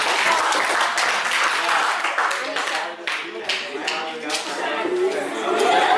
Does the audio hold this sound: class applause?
yes